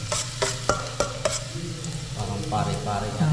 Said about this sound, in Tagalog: Gisa natin si luya.